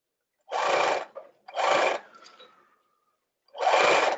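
A sewing machine stitches gathered tulle to a tutu panty in three short, close bursts of whirring motor and needle action, separated by brief pauses.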